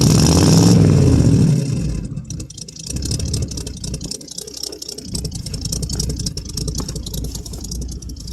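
A 1967 Chevrolet C10 small-block V8, cold-started after sitting about three years, revs through a homemade glass pack exhaust with flex pipe. It starts with a loud rev, then settles into a steady, rough, held rumble, close by.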